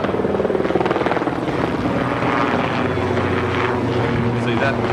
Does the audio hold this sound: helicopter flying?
yes